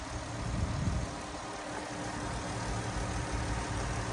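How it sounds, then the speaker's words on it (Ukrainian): A Jeep Cherokee Trailhawk engine idles steadily and close by, a low continuous hum with an even rumble and no voices, its level holding constant throughout. "Двигун працює як часи."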